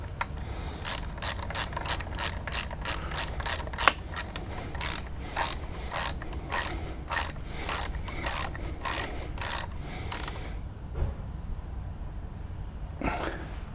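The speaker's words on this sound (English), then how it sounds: "just need to do this pinch bolt up." A ratchet wrench clicks in fast bursts while tightening the fork pinch bolt on an Aprilia RS 125 motorbike, close and crisp, with short pauses between strokes and a final few clicks after a brief gap.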